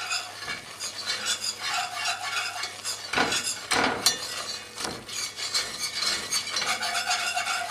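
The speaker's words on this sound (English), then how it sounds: "I'll start whisking this. We're making a roux." A flour and butter roux being whisked in a pot for shrimp bisque, heard as close, busy scraping and stirring strokes with a few louder sweeps against the pot, and no talking.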